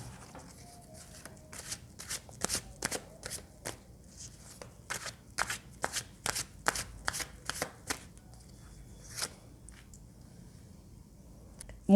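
Tarot cards are riffled and flicked in a quick run of crisp, papery snaps that thin out into a few separate flips toward the end. The handling is close and fairly soft, with no voice over it.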